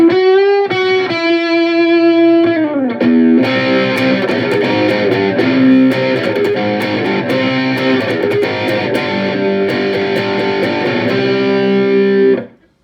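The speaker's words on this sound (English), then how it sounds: "and now we've got a lead guitar tone." Overdriven lead electric guitar played through a Roland CUBE 10GX amplifier, sustaining distorted notes and fast lead lines, loud and continuous for about twelve seconds before cutting off, with no talking.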